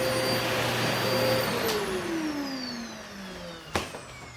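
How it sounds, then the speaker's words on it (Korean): A household vacuum cleaner runs steadily and loud, its motor whine holding for over a second and then gliding down in pitch as it winds off, with a sharp knock near the end. "청소기 다 했다."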